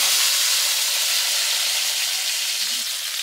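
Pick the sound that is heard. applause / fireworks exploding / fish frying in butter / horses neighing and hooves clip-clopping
fish frying in butter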